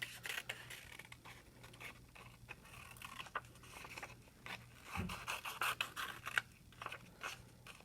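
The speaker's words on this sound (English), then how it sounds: "And then I'm going to cut my circle shape" Scissors cut a round circle shape out of stacked paper for a construction-paper insect, a steady series of quiet, close snips and scrapes with light rustling between cuts.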